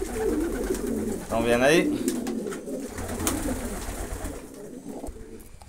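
Pigeons in a loft feeding on a grain mix coo in soft, repeated rolling calls close by, with one clear burst in the middle, while a person talks over them.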